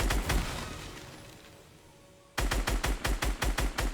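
Fortnite gunfire: a few sharp shots open, then after a short lull a rapid, evenly spaced string of loud, close gunshots rattles on to the end.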